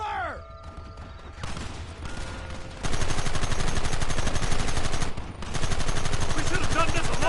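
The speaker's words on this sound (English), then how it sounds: "Open fire!" Gunfire in Red Dead Redemption, with dense rapid rifle and pistol shots rattling continuously in a loud sustained volley after a quieter opening with game sounds.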